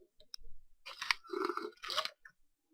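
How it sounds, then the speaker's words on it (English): Ice from a glass of ice water is chewed close to the mic, giving a few loud crunching bites in quick succession, then quiet. "I'm going to chew on the ice and annoy everybody out there"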